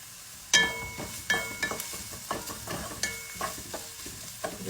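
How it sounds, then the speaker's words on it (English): Ginger and garlic sautéing in a pan while being stirred: a soft sizzle under repeated clinks and scrapes of a utensil against the pan, close and fairly quiet, with no talk. "I'm just gonna saute this. In goes the ginger"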